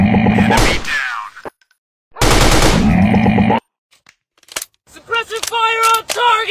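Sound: machine gun fire in Android game Commando Run

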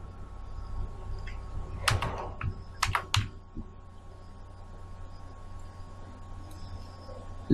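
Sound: typing the channel name on a computer keyboard

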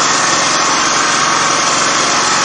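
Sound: engine of the Phoenix gasifier running

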